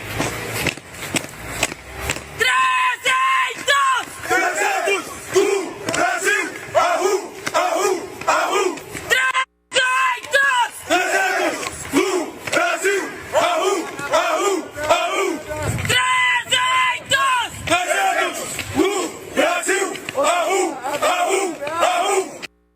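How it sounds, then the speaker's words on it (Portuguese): The 300 do Brasil protest group shouts slogans against the justices in front of Brazil's Supreme Federal Court. The rhythmic chanting of many voices is loud and continuous, with one brief break partway through. "em frente ao Supremo Tribunal Federal, aí gritando palavras de ordem contra os ministros do Supremo."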